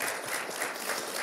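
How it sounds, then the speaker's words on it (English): Audience applause at a public talk and book presentation, a dense, steady wash of many hands clapping at moderate level, continuous through the short stretch with no voices standing out. "Yeah, one more applaud."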